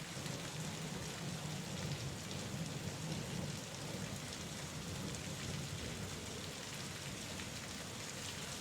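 Steady rain pours down in a continuous dense hiss, with a low rumble of distant thunder underneath, evenly loud throughout and with no voices.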